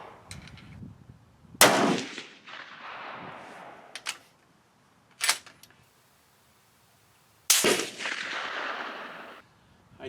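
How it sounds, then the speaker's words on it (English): A precision rifle fires a 190 grain bullet outdoors: two loud, sharp cracks several seconds apart, each trailing off in a rolling echo, with a few shorter mechanical clacks between them and no talking. "Identical to the first shot with a 190 grain bullet."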